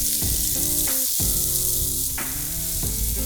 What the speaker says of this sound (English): Stir those onions around.